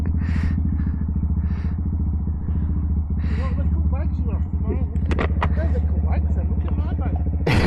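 A mega Grom motorcycle idles and revs nearby in a low, pulsing engine drone, with sharp cracking bangs toward the end and voices talking over it.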